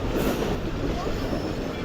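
The Karakoram Express passenger train rolls along the rails near the Mehran Bridge over the Indus, seen from inside an economy-class carriage in winter. The rumble is steady and dense, broadband and close, with no breaks.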